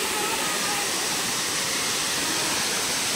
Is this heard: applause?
no